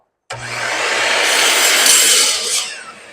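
A saw rips through a board to trim off its factory edge, cutting steadily for a little over two seconds at close range and loud, then trailing off as the cut finishes.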